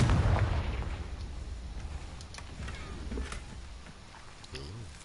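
Confringo blast spell cast in the Hogwarts Legacy video game: a loud boom bursts out at the start and rolls into a rumbling decay, followed by lighter crackles and a smaller magical whoosh near the end, with no talk.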